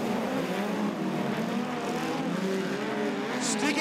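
Midget speedcars race around a speedway during an A-main, engines droning loud and steady with rising and falling pitch as cars pass.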